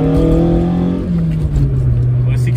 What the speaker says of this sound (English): the motor, the throttle sound